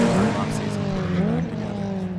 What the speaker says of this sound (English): he just made a pass on Arsham in that 33 Genesis Coupe